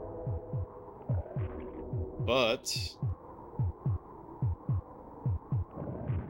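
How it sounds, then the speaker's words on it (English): A slow, steady heartbeat thumps in Populous on the SNES, regular low pulses about every half second under a droning hum, with a brief warbling tone and a short word partway through. "the heartbeat is very, very slow."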